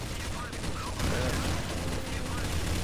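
Gunfire in Counter-Strike: Source on a zombie escape map, a dense steady crackle of repeated shots running throughout and growing louder after the first second, with voices and laughter mixed in.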